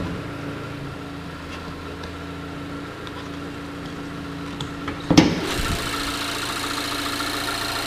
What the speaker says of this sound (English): Oh, you got your 2-liter Sky Active Technology engine.